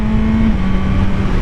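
A motorcycle engine accelerates hard with a loud, close, steady growl as it pulls through the gears, with no talking.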